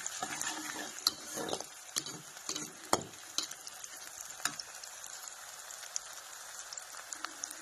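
Onions sizzle and crackle steadily in a pan, with a few sharp pops and clinks of stirring, no voices.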